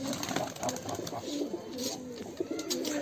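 Pigeons coo softly and repeatedly in a busy outdoor space, with low murmurs and a steady background hum; no clear talking.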